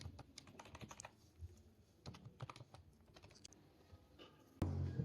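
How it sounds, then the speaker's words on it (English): Computer keyboard typing, a run of quiet, close key clicks in irregular bursts with short pauses, ending on a louder thump. "So I'll just type in npm install."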